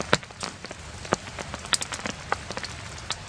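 Rain falls steadily at a winter campsite, with distinct drops tapping close by at irregular intervals over a quiet background hiss.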